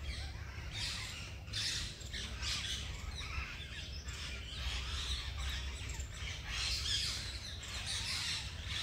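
Harsh, shrill squawks from a noisy flock of parrots repeat in bursts over a constant low rumble, with no voices.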